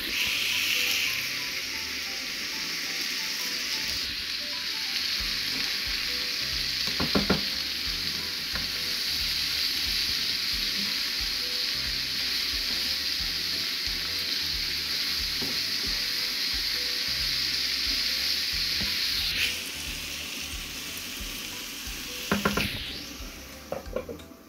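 Vegetables sizzling in a pan with turmeric and salt, a loud continuous frying hiss with scraping stir strokes from a spatula, close up and with no voices.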